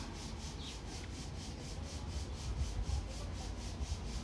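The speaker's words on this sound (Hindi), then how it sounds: "थोड़ा थोड़ा करके चने लीजिए और भून लीजिए लगातार चलाते हुए भूनिए" Dry black chickpeas scraped and stirred in a hot pan while roasting, giving a steady close rustling, grainy scraping with a faint rhythmic texture, no voices present.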